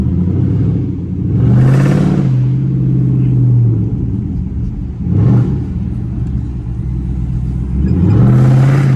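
A loud catless Chrysler 300C rumbles close by, revving hard three times with deep, throaty exhaust bursts between steady idling.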